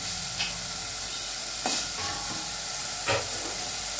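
Telugu gram-flour curry frying in a pan, with a constant loud sizzle and a few brief spatula scrapes or stirs breaking through at intervals.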